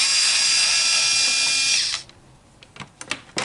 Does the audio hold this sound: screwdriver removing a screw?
yes